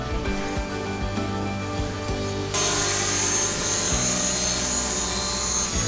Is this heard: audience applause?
no